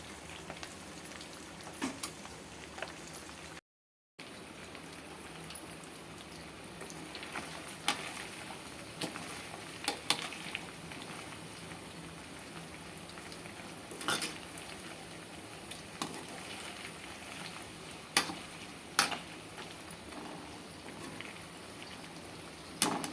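Chicken pieces frying in groundnut oil that foams and bubbles, heard as a soft, steady bubbling hiss with occasional light clinks of a utensil against the pan.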